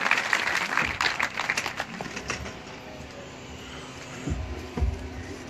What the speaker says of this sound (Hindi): तालियों की आवाज़ में हम उनको स्टेज पर वेलकम करते हैं